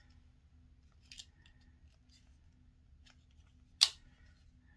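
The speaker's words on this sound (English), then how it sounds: "Cut it open real quick." Scissors snipping open a sealed package of an About Face lip gloss, a short quiet cut followed later by one sharper, louder snip over a faint low hum.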